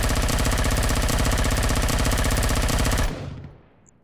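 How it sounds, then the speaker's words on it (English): Heavy machine gun firing in a VR shooter game, a loud continuous burst of rapid rhythmic shots lasting about three seconds before cutting off into a fading tail. "And the final new weapon is the heavy machine gun"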